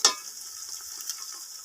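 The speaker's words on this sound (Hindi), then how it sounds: "इनको भी ऑयल में थोड़ा सा फ्राई कर लेंगे।" Garlic and ginger paste frying in hot oil for a peas pulao, a soft steady sizzle that opens with a brief louder burst of stirring, then stays faint and even, with no talk.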